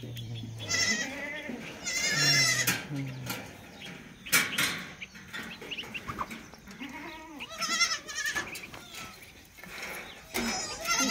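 Goats bleat repeatedly and close by during hand milking, several overlapping calls in irregular bursts with some shuffling and clatter between them.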